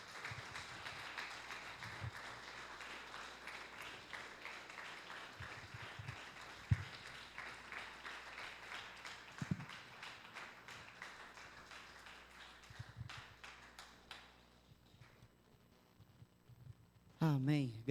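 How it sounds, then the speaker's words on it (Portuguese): Congregation clapping during a church worship service, a steady dense wash of applause from many hands that carries on for most of the stretch before thinning out near the end. "que as palmas glorifiquem a Deus"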